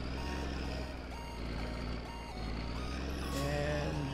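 Repeated reversing beeps sound from a truck backing up in the My Summer Car driving game, a steady electronic beeping over a constant low engine drone, loud and close throughout.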